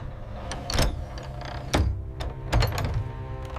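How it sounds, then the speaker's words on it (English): A door in a house at night moves by itself, giving three heavy knocking thuds at irregular intervals with a creaking, sliding rasp between them, close and fairly loud. "No hands, yet the door still moves."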